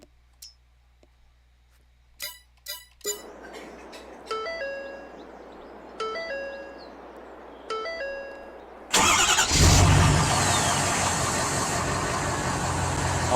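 Ford F350 truck mod in Farming Simulator 22 clicks and chimes through a rhythmic series of dashboard beeps before the engine cranks and fires loudly, settling into a strong, steady idle.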